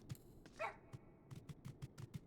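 Dog barking in Final Fantasy XIV, a single faint yelp among rapid clicking keyboard taps in a quiet game scene.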